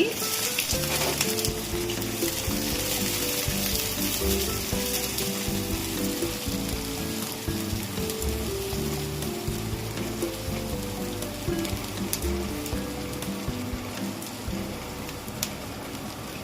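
Ginger, green chili, garlic and onion frying for a mixed dal, a dense continuous sizzle and crackle in hot oil with soft stirring clinks, heard close and alone throughout.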